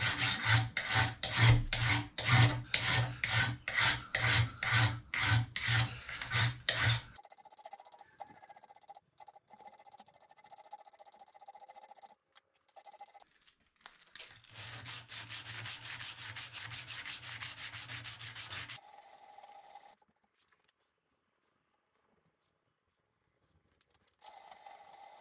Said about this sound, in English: every once in a while you're going to see me go back and forth between sandpaper and files